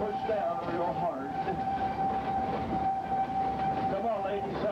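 A train running downhill on the Frisco line, a steady rumbling rolling roar with a sustained whine, while someone talks over it.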